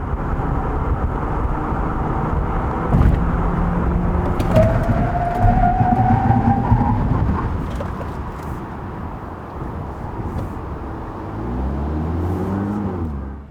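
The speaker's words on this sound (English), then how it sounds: "let's check out the braking performance of the new Ioniq Hybrid" A Hyundai Ioniq Hybrid on 225/45/17 tires accelerates and then brakes to a complete stop. Engine and road noise rise and hold, then a descending whine fades as the car slows, heard fairly close.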